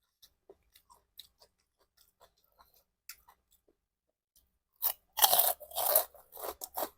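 Someone chews crunchy fried pork rinds with spicy papaya salad, close up: sparse soft clicks at first, then a loud burst of crisp crunching bites toward the end.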